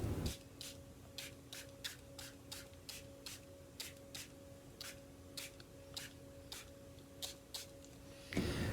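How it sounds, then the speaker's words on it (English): A spray bottle misting water onto a non-objective painting, about fifteen quick evenly spaced spritzes in a steady rhythm, close and fairly soft in a quiet room, with a louder handling noise at the very end. "I'm going to bring a spray bottle in, kind of let some of those edges fade out"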